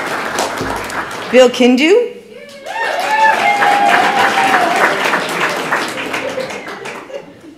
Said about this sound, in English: We're going to clap for her anyways.